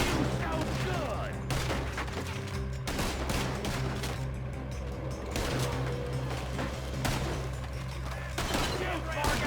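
Gunfire from the video game Red Dead Redemption 2: dense, loud volleys of rapid shots and bursts crack repeatedly across the whole stretch, with voices shouting in among the shooting.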